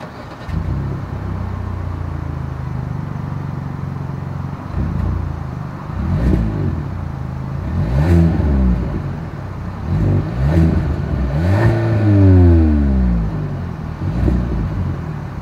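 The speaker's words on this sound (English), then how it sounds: "Here is that exhaust clip" Kia K5 single-outlet exhaust revving up repeatedly over a steady idle, several sharp rising and falling revs close by, with no talking.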